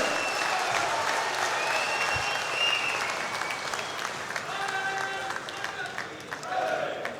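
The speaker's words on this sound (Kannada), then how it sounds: "ಜೋರಾದ ಚಪ್ಪಾಳೆ" A seated audience rises for a loud standing ovation, producing a dense, sustained roar of clapping that fills the whole stretch, with crowd noise and voices mixed in.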